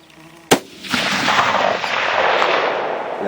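A single sharp rifle shot fired at a target 500 yards away outdoors, loud and close, followed by a long rolling echo that trails off slowly.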